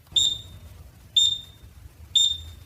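A microwave oven's end signal: three short, high-pitched electronic beeps at an even pace, about one per second, each ringing briefly, with a faint low hum underneath.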